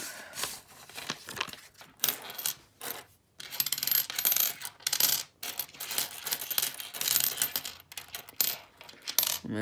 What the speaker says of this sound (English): Let's get these other coins out.